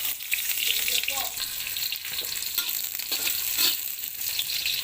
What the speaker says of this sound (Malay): Sekarang kita tumis dia punya bumbu.